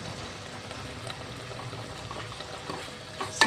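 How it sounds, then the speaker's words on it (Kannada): Tomato rasam with turmeric and chilli powder simmering in a pot, a steady soft bubbling and sizzling texture close by, continuous with small pops and no talk. "ಸ್ವಲ್ಪ ಕುದಿಲಿದು."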